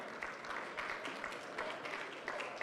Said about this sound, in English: give me an applause for Livia